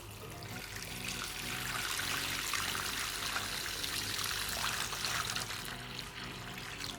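Steady rushing water fills a container for a phone water test, a continuous splashing flow that stays loud and even throughout.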